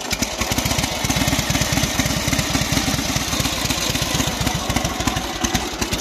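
A Sokół 1000 motorcycle engine running, a loud, close, rapid and even thumping beat that continues steadily with no speech.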